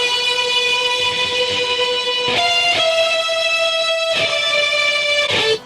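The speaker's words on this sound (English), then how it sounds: "Alright, then hear the actual guitar solo." Melodic electric guitar solo on a double-neck guitar, sustained singing lead notes that glide between pitches with a few picked changes, loud and close with no voices.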